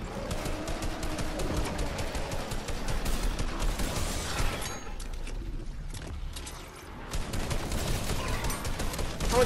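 Fortnite Battle Royale gunfire, bursts of rapid shots close by, easing into a quieter stretch midway before firing picks up again.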